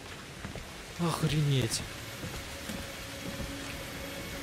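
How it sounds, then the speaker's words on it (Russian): Steady rain hiss falls through the Outlast 2 game world as blood rain, with a voice exclaiming over it briefly near the start before the downpour carries on alone. "Серьезно, кровавый дождь?"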